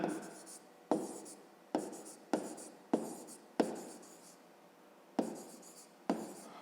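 Pen strokes of handwriting on paper while working a fifth-grade math word problem, about eight short scratching bursts at a steady, uneven rhythm, close and quiet, with no talking over them.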